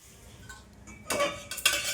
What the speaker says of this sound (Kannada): ಈಗ ಇದಕ್ಕೂ ಅಷ್ಟೇ ಸ್ವಲ್ಪ ಖಾರ ಹಾಕಿ ಮಿಕ್ಸ್ ಮಾಡ್ತೀನಿ.